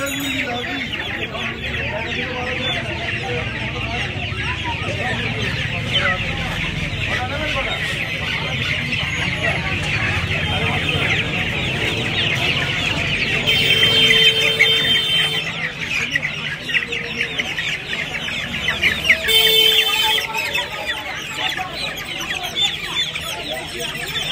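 A crowd of Australian-breed chicken chicks cheeps continuously at a busy poultry market, their shrill calls layered over clucking fowl, with a few louder, closer bursts partway through.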